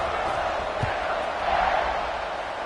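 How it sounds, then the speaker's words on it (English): Stadium crowd at a Boise State vs Baylor college football game, a steady loud wash of crowd noise filling the whole stretch, with a brief low thump partway through. "Do you think this crowd's going to get loud when their defense comes on the field?"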